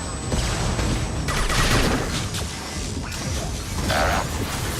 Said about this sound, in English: Sniper rifle utilization.